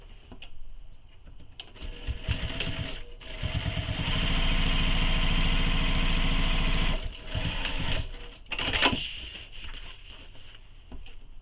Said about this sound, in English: Now I'm going to top stitch, just like we did on the front,